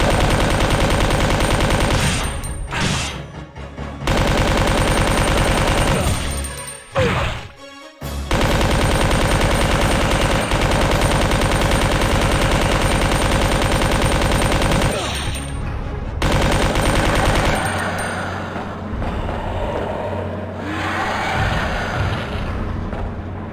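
Gunfire in the PS1 game Resident Evil 2, loud rapid bursts that run almost without a break, with a few short pauses and a thinner stretch near the end.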